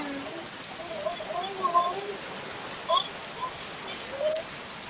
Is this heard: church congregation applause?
no